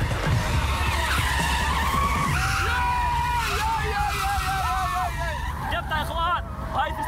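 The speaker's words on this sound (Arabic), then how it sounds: "هاند بريك. بدخل المنعطف بسرعة عالية." A drift car with the handbrake pulled slides through a corner at high speed in a drift competition, its tires squealing loudly in rising and falling wails over a rumbling engine, while someone talks over it.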